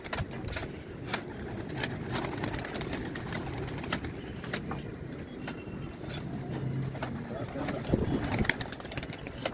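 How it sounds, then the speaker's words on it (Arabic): Pigeons coo around a rooftop pigeon tower about 17 metres high, soft low calls under sharp fluttering clicks and steady outdoor background noise. "طبعا كل ده حمام ديكور يا استاذ احمد."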